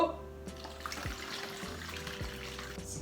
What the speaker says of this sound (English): I'm just going to pour the water into my spray bottle.